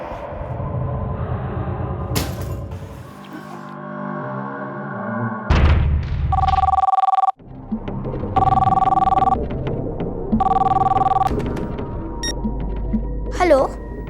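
A telephone rings in a home, several bursts of a bright electronic ring separated by short gaps, loud and close, mixed with a dramatic music score and booming hits.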